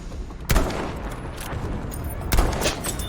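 Two sharp rifle cracks from a Kar98k bolt-action sniper rifle in Battlefield V gameplay, spaced about two seconds apart, loud and close over a steady background of distant battlefield gunfire.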